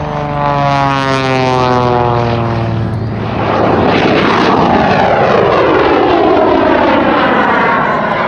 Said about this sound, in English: As we watch him bring that big biplane right back around out here off of Air Show Left, diving into the aerobatic container out here.